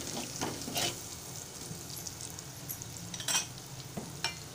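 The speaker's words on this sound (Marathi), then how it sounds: "मिश्रण एकजीव करून घेत आहे" Malvani masala, salt and a softened mixture are stirred in a frying pan, giving a steady close sizzle broken by scraping strokes of the spoon.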